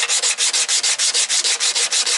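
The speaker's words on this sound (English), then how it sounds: "You want to sand the bondo down." Rhythmic back-and-forth hand sanding of bondo body filler in a VW MK2 engine bay, about a dozen even, steady rasping strokes, close and fairly loud, with no voices.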